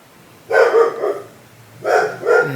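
A dog gives two loud, close barking bouts, each a quick double bark with a short gap of quiet between them.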